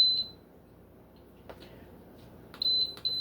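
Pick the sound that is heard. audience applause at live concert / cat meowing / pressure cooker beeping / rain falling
pressure cooker beeping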